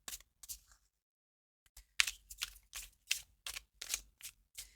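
A deck of Fantastical Creatures tarot cards being cut and riffle-shuffled in short crisp bursts, a few quick flicks, a pause, then a steady run of about eight close, rhythmic shuffles.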